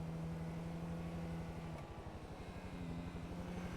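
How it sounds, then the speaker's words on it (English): A faint, distant helicopter drones with a low, pulsing rotor thump and a steady engine hum. "It's an interesting helicopter."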